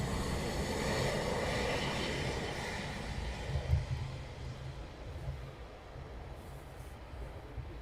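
Eurofighter Typhoon jets taxi at RAF Coningsby, a broad steady engine roar and whine, fairly loud and even, easing slightly toward the end with no talk.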